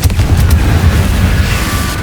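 Blasting spell explosions from the Hogwarts Legacy game, a dense run of booming low bursts packed together at high volume, rumbling continuously for about two seconds with no talk.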